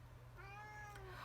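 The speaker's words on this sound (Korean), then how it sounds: "우리 고양이가 좀 많이 울고 있네요." A house cat gives one clear, drawn-out meow indoors against a low steady hum, near and moderately loud.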